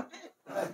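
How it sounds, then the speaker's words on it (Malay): A brief, close throat clearing in two short rough pushes, like a held-back cough, heard alone with no talking. "Itu seakan-akan kita mau batuk tapi enggak."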